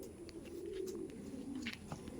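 Andhra pigeons cooing softly in a low, rolling murmur, with a faint background hiss and a few light incidental sounds.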